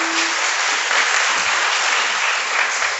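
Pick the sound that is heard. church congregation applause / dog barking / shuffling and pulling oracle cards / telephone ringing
church congregation applause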